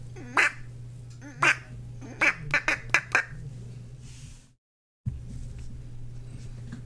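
Soundboard duck quacks play in quick bursts: one, then another, then a rapid string of five or six over a steady low hum, before a brief dropout and the hum resumes.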